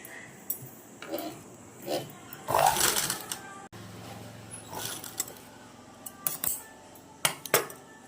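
A sewing machine stitches on its second setting in short, separate bursts of whirring and clicking, close by, with quiet rattles and handling noises between runs.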